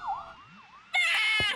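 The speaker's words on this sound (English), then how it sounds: "Rekkit, get away from the sirens!" Cartoon police sirens wail in a rising-and-falling sweep, faint at first, then a loud, bright, harsh siren blast cuts in abruptly and holds until the end.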